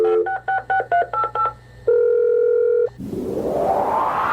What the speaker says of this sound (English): have your home computer store phone numbers and even dial the phone for you